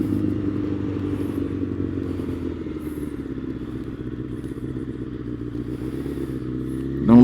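A sport motorcycle engine drones steadily during a sit-down wheelie, a sustained low rumble that shifts pitch slightly before a sharp rev at the end.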